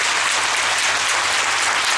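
Congregation at an evangelical sermon breaks into loud, sustained applause and acclamation, a dense wash of clapping filling the space steadily with no break.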